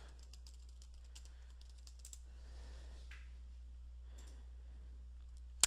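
Faint clicking keystrokes on a computer keyboard as a password is typed in for a WordPress login, a steady scattered patter of taps with a louder click at the very end.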